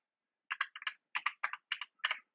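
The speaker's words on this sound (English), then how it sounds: "So let's use the slash, and I try to write the name of the file," Keys on a computer keyboard tapped in short bursts to enter a file search in the vim editor, about a dozen crisp, close clicks grouped in pairs and triplets over a quiet background.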